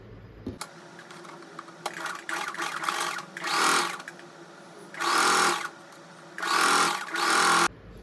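A sewing machine stitches blouse lining fabric in three loud, even bursts of rapid mechanical whirring, close by, with quieter clicks and handling sounds between runs.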